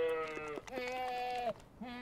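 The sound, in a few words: goat bleating, transgenic goats on a farm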